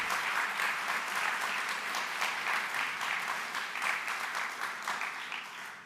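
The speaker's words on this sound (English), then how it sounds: "I think we all should give them a big round of applause for all the nonprofits." An audience at an annual meeting applauds the nonprofits, a dense, steady round of clapping from a large crowd that holds for several seconds and tapers slightly at the end.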